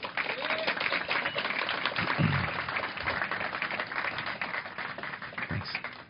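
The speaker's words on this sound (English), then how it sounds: "Let's get a big round of applause for Wendy Nather" Keynote audience at a conference gives applause for an introduced speaker: dense, steady clapping from a crowd, fairly faint and distant throughout, with a few voices mixed in.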